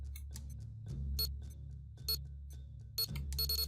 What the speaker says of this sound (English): the clock I'm controlling is racing the other one that's just ticking away steadily on its own